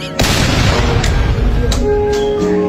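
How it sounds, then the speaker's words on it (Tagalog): A sudden loud booming burst that keeps roaring as a dense, sustained blast of noise for a couple of seconds. "Sumabog."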